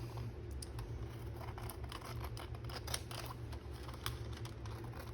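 Scissors trimming excess paper along a marked line, a steady run of small crisp snips and rustles, close and fairly quiet, with no talking.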